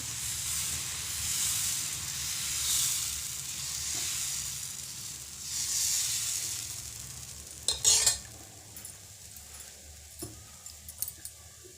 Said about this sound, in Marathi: आता एका पळीने आणि पळीनेच असं पसरवून घ्यायचं